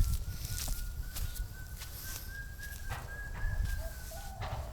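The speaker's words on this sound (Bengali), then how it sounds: "পাখি ডাকছে" Birds call outdoors around a quiet estuary mangrove forest, a thin whistled note rising and drawn out along with a few brief chirps, faint and distant over low wind rumble.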